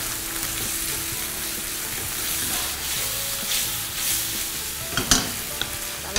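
Minced beef stir-fried in a hot pan for a Japanese negi miso rice bowl, a steady close sizzle running throughout with scraping spatula strokes and a few sharper clinks toward the end.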